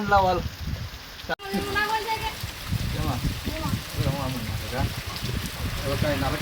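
Heavy rain pours down on a farm plot, a dense steady hiss that runs the whole time, with several people talking loudly over it.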